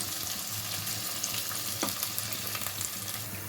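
Green chillies and onion frying in oil, a steady dense sizzle with faint stirring scrapes and a brief clink midway, close and continuous.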